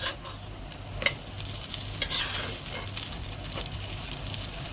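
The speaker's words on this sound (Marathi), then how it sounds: "आपलं फ्राय पॅन तापलाय, त्यावरती आपण तेल टाकूया आणि त्यावर आपण ठेवून घेऊया" Food frying in oil in a hot frying pan for a quick home dinner, a steady close sizzle with occasional sharp clicks of a utensil against the pan, no talk over it.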